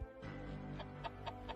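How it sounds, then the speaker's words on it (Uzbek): A rooster crows and clucks in PUBG Mobile gameplay, a few short repeated calls sounding faint and thin above a low steady background hum. "Mana nastoyashli xo'rozlar bor."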